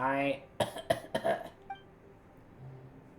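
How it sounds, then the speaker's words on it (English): A voice trails off, then a game character in Genshin Impact gives a short burst of three or four harsh coughs in quick succession, fading into quiet. "We'll see how much redder your face can get from all that coughing."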